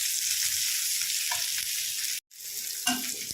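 Green chillies frying in a pan for a dhaba-style egg masala curry give off a steady, close sizzle, with a few soft stirring touches and one brief dropout partway through.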